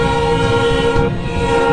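A loud high-speed train on the Ahilyanagar–Beed–Parli line rumbles close by at about 130 km/h while a steady horn blares over it, then cuts off near the end.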